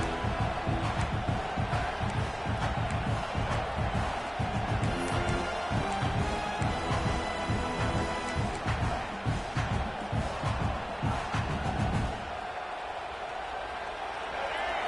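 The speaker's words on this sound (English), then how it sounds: "Listen to this crowd just shaking the girders of this place, trying to help their defense." A dense, roaring college football stadium crowd at Air Force vs South Carolina fills the space, loud and sustained, easing off slightly toward the end as a broadcast voice talks over it.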